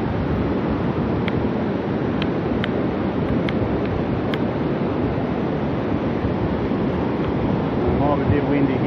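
Steady wind rushes and buffets against the microphone outdoors where a DJI Ryze Tello drone is flown, a constant broad roar with a few faint clicks in the background.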